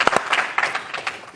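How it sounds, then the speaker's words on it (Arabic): A studio audience breaks into warm applause, a short close burst of clapping that trails off quickly. "تصفيق حار."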